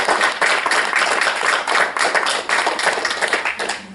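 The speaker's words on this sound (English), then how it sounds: "Give her another round of applause, Tammy Baker." Lively clapping from a crowd at a Maryland Freedom of the Press Day ceremony honoring Tammy Baker, close and energetic with individual hand claps distinct within the steady applause.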